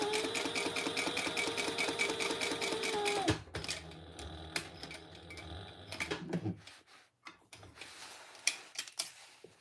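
A sewing machine stitches a fabric bag in a fast, steady mechanical whir for about three seconds, then stops, leaving faint clicks and handling noises nearby.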